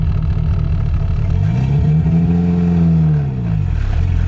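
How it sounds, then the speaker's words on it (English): A DSM/Evo with a five-speed manual pulls away in first gear, its engine humming close and loud, revs rising in a smooth climb before easing off as the car gets moving. "Slowly give it some gas and then let the clutch out, and then we'll be off."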